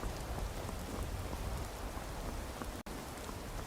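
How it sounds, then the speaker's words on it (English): Steady rain falls in Skyrim, a constant dense hiss of drops hitting surfaces that stays even and fairly quiet throughout, broken only by a split-second dropout near the end. "It's raining."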